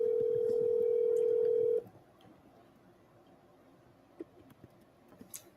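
Telephone dialing tones play loud and steady for nearly two seconds before cutting off abruptly, leaving quiet room noise with a few faint clicks afterward.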